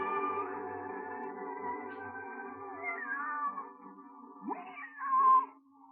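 A cat meows in a long, drawn-out, wavering call, then gives a rising, whiny second meow, close and clear with no voices.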